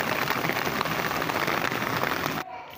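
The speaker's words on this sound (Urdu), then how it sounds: "ٹیکسلے چ بارش شروع ہو گئی جی بہت زیادہ" Heavy rain pours down in Taxila, Wah Cantt, a dense, loud, continuous hiss of drops on surfaces that cuts off abruptly near the end.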